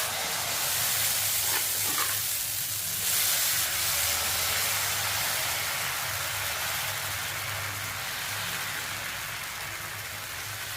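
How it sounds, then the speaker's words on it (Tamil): Pirandai powder dosa batter sizzles on a hot, lightly oiled pan, a steady crackling hiss that starts loud and gradually settles into a softer, even fry with no talking. "இப்போ நம்ம பிரண்டை பொடி தோசையை ஊற்றிடுவோம்."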